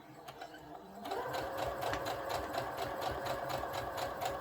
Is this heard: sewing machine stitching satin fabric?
yes